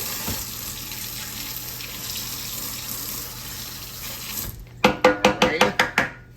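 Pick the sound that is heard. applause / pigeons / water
water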